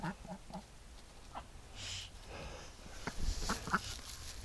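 An upset duck, a hen fussing over an empty nest, gives a run of short, scattered calls and squawks nearby, growing busier and louder toward the end.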